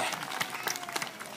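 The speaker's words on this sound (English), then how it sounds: "can we get another round of applause for Alyssa and Tula?" Audience applause at an outdoor zoo animal show at the Santa Barbara Zoo, a short burst of scattered clapping from a crowd, fairly close and steady, ending with a sharper clap or two.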